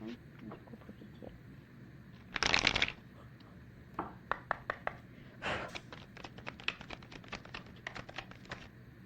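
Tarot cards being shuffled and drawn, with one loud riffle burst followed by a second and then many light, quick snaps and taps of cards, close and fairly faint, with a voice speaking briefly.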